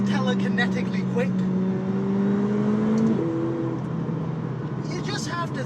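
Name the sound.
McLaren 720S engine changing note on paddle gear shift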